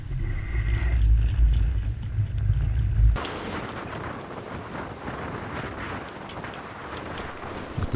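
Strong wind gusting in the low 40s on a sailing boat at sea during a rough passage with seas of 15 to 18 feet: loud, buffeting low rumble that gives way to a broad, roaring rush of wind and spray.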